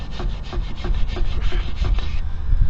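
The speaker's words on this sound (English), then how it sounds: "we're going to clean up our rotor surface because it's stuck to the wheel pretty bad" Abrasive scrubbing on a rusty Jeep WJ brake rotor surface stuck to the wheel, a close, loud, rhythmic rasping stroke repeated about a dozen times.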